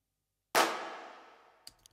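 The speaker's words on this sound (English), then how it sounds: "So it's more reverb, more claps, eight in this case." A single dense burst of stacked software hand claps from a clap plugin, eight layered together and drenched in heavier reverb, leaving a long washy tail that fades over about a second, followed by two faint ticks.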